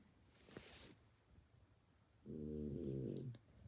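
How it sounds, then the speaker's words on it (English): A sleeping pet lets out one quiet, drawn-out, rattling snore with a buzzy tone, after a soft breath-like rustle, all faint and close. "He's snoring up a storm, but that's okay."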